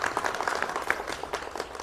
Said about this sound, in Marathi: हा विजय आहे की नाही? वाजवा टाळ्या.